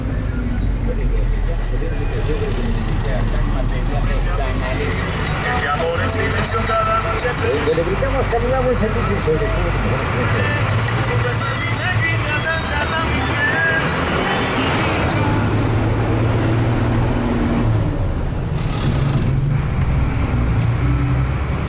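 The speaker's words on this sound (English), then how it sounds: "Now I'm on the bus to Centro Norte." Inside a moving city bus heading to Centro Norte in Guatemala, a continuous engine drone and road rumble with rattling and shifting mechanical noise, and muffled voices at times.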